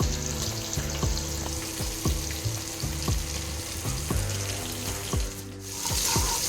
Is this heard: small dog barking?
no